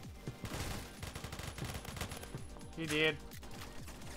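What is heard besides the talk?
gunfire in the video game Phantom Forces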